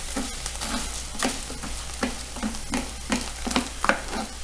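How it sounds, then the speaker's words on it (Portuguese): Rice is stirred into onion frying in a pan, giving a steady rhythmic scrape of the spoon every half second over a continuous soft sizzle, close and fairly loud, with no talking. "Agora eu vou colocar o arroz."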